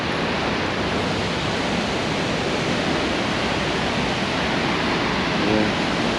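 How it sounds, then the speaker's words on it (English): A large man-made waterfall in the middle of Idaho Falls city roars as a loud, steady, broadband rush of falling water that fills the whole stretch without a break. "Got a big giant waterfall. I'm pretty sure it's man-made"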